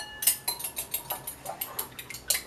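Two eggs beaten briskly in a bowl with a utensil, a fast, even run of light clicking taps close by, with no talk.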